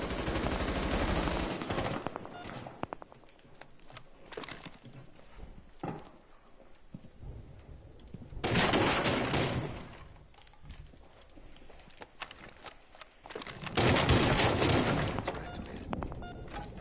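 Bursts of gunfire from a Rainbow Six Siege match, loud and dense around the start, the middle and near the end, with quieter crackling and thuds between.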